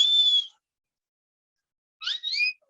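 A whistle sounds during a chemistry lecture over Zoom: one steady high tone, then after a pause two short rising and falling warbling notes, clear and close, with no talk.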